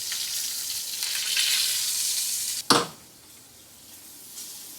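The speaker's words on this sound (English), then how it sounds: "I wanna get a nice golden brown color on both sides of this pork" Pork searing in a hot pan, a loud continuous hiss of frying, broken by a sharp burst as the meat shifts, then settling to a quieter steady sizzle.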